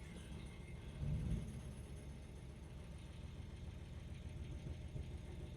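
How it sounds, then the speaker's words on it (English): A 1981 Chevy C10 square-body pickup idles in a driveway, a steady low rumbling engine note with a slight surge near the start, continuous and close with no talking. "I'm going to see if he'll idle right here in the driveway."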